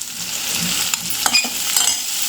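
Mango pieces cooking in a hot pan hiss with a steady sizzle, punctuated by a few light clinks and scrapes of a utensil stirring, close by with no voices.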